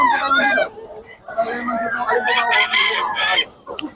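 A sweater line gamecock crows at a Bocaue gamefowl sale, its call rising over steady chatter from nearby people talking.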